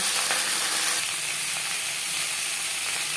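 Pointed gourd (potol) fries in refined oil with a loud, dense, continuous sizzle and hiss that stays steady throughout.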